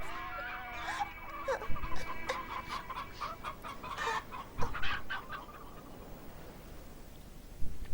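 Hens cluck repeatedly in short, uneven bursts, fairly close and clear, with occasional louder squawks and a few sharper calls among the flock; no one talks.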